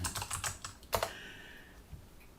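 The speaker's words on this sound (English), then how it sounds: "open your favorite browser and type in the word Java" Close typing on a computer keyboard, a quick run of crisp clicking keystrokes followed by a couple of isolated taps, with no talk.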